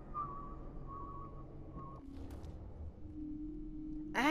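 Whistling from the video game Dishonored 2: a steady melodic whistled tune that wavers in pitch, then drops to a lower sustained whistle, heard clearly with game ambience underneath and no talk.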